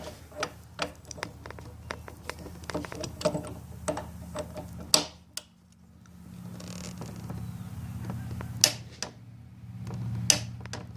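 A torque wrench tightens the steering stem nut on a Yamaha FJ-09/MT-09 Tracer/FZ-09 motorcycle, sharp close ratchet clicks in uneven bursts with quiet pauses and a low background hum.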